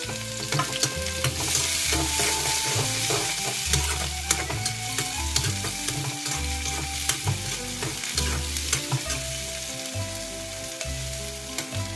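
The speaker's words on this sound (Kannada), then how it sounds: "ಈಗ ಈರುಳ್ಳಿ ಟೊಮೆಟೊ ಹಾಕ್ತೀನಿ" Green chillies, onion and tomato sizzle and fry in a pan, a steady close crackle with repeated rhythmic stirring scrapes running throughout, no voices present.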